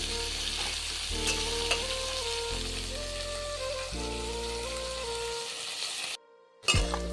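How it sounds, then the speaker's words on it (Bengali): Carrots and yardlong beans fry in oil for wedding-style fried rice, a steady crackling sizzle running beneath background music before a brief drop-out near the end. "গাজর আর বরবটি খুব ভালোভাবে ভেজে নেব যাতে করে খুব ভালোভাবে সেদ্ধও হয়ে যায়"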